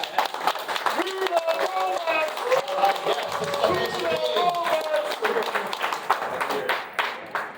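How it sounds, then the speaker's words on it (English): Audience clapping at the BotCon 2023 convention product panel, a brisk burst of hand claps mixed with cheers and voices, sustained across the clip before thinning out near the end. "Clap it up for that"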